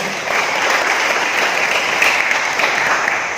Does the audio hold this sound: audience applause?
yes